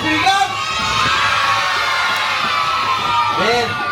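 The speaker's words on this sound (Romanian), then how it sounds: "Mâinile sus și strigăm cu toată puterea noastră yes!" Children and parents in a school percussion class shout together in one loud, sustained collective cry, filling the room, with a few higher voices rising at the end.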